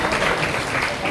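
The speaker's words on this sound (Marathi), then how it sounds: "थोडंसं जरा टाळ्यांच्या गजरामध्ये त्यांचा जर आपण सत्कार केला तर त्यांचाही मनोबल वाढेल" An audience at a construction workers' event in Mahad claps briefly and moderately to honour students, a short burst of applause with voices mixed in.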